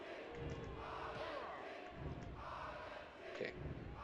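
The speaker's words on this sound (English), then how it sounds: "This crowd is deafening." A wrestling arena crowd in the PlayStation game WWF Attitude roars and chants in a dense, continuous wall of noise, swelling in repeated waves throughout.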